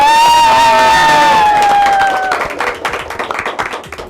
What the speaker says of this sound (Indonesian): Lagi tepuk tangan yang meriah untuk SMK